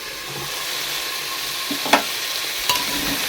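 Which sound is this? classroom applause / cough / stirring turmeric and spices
stirring turmeric and spices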